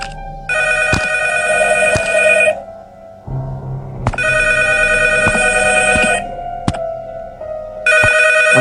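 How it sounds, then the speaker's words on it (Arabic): A telephone rings loud and close in repeated long trilling bursts with short pauses between them, and a low background murmur underneath. "طب انا التليفون بيرن برد"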